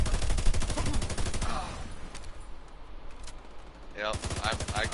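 Rapid automatic gunfire bursts out in The Division 2, with dense rhythmic shots at the start and again near the end, under a quieter stretch of faint game noise and voices.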